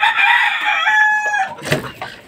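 Fighting rooster crowing close and loud in one long drawn-out call, followed by a few short clucks.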